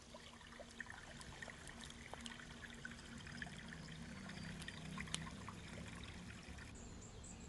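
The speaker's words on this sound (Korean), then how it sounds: "토지 안쪽에 보면 맑은 물이 졸졸 흐르는 작은 구가 이렇게 있습니다" Clear water trickles through a small channel on rural farmland, a soft, continuous babbling and dribbling heard close but faint, steady for several seconds with no voices.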